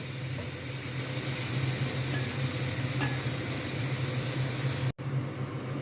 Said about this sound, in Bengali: এইভাবে জল দিতে দিতে সমস্ত মশলাগুলো ভালো করে আমি কষিয়ে নেব